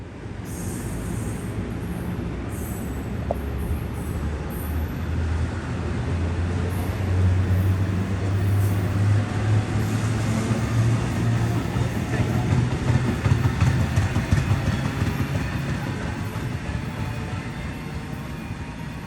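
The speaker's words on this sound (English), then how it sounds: "the MARC train didn't take long before he started up his journey south into D.C." A MARC commuter train departs south toward D.C. with a steady, loud rumble of wheels and engine and a sustained low drone through the middle. Faint higher rail noise sits over the continuous roar. No one speaks.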